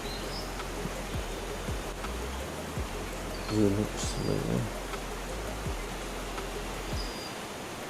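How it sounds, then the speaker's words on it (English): The waterfall at Westquarter Glen, Falkirk, gives off a steady, even rush of falling water that fills the whole clip. Someone speaks briefly over it. "That looks okay for the bottom of the waterfall."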